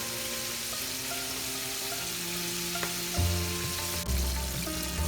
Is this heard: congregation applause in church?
no